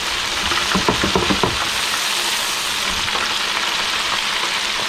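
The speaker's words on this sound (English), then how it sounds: "We are frying some bowfin." Bowfin fish sizzles steadily in a frying pan, a constant loud hiss of hot oil with a few light clicks and taps early on.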